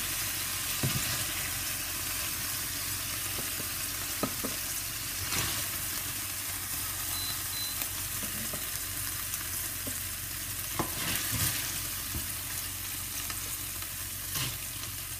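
Kefta meatballs searing in a hot pan give a steady, close sizzle that runs throughout, with occasional sharper crackles and pops; no one speaks.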